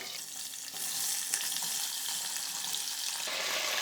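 Vegetables including potato tumbling into hot oil with cumin for Mumbai-style pav bhaji, a steady close sizzle and frying hiss with a slight rise as they go in, no voices.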